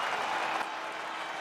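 A crowd applauds at the podium in the F1 23 racing game, a dense steady wash of clapping and cheering heard at a moderate distance without a break.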